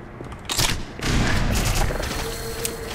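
A grenade blast in the shooter game Black Mesa, a burst of booming explosive noise followed by a loud, sustained rumble with crackling gunfire-like texture, filling the whole clip.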